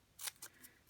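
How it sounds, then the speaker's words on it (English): Snips cutting cardstock into a tag, a handful of quick, crisp snips close up and quiet, with nothing else heard. "I'm going to take my snips and I'm going to make this into a"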